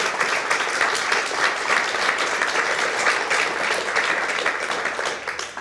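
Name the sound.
audience applause at book awards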